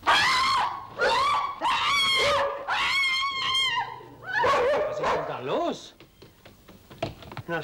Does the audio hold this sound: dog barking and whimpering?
yes